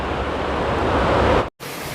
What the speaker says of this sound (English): just came across this for all you waterfall lovers